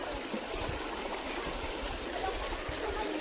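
A river near Tulay Buaya in Unisan, Quezon, flowing with a steady, close wash of rushing water that never pauses, like a stream running over rocks.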